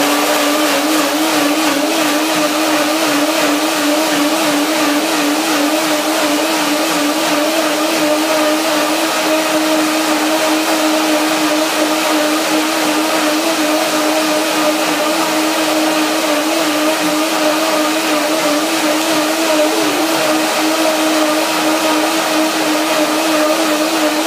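A kitchen blender runs steadily, whirring loud and continuous as it purees bananas, cashews and a little water into cream, with a sustained motor drone and no talking.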